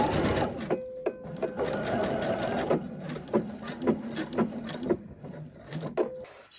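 A sewing machine runs steadily, stitching a V-neck facing on a garment, with a continuous close mechanical whirr broken by short pauses and clicks as the fabric is turned.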